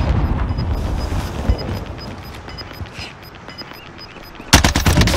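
Video game gunfire, rapid bursts of shots rattling loudly and continuously, thinning out briefly before a sharp, dense volley erupts near the end.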